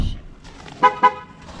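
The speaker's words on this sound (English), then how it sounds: "the truck should honk twice," A 2021 Ford F-150 Lariat pickup sounds its horn twice, two short, loud, evenly spaced toots heard nearby over faint background noise.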